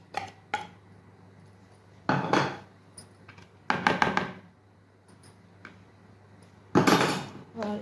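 A spoon stirs fried spinach-onion masala into leftover kheel batter in a bowl, giving intermittent clinks and scraping clatters that stand out against a quiet background.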